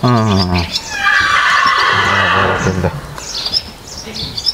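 A horse gives a loud, close, wavering neigh that rises and trembles for several seconds, followed by shorter quieter snorts and calls.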